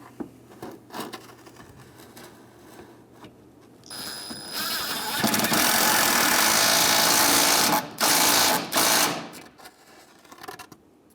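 A power tool spins a 10mm bolt on an extension while a 2015-2016 Hyundai Sonata washer reservoir is being replaced. A loud, sustained whirring and rattling run for several seconds, briefly cut out, then resume among softer clicks and handling noises.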